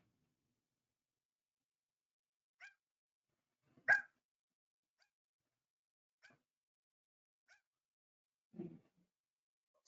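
A dog, once unable to bark, gives a few sparse, faint barks and a couple of soft yelps, spread out with long quiet gaps between them.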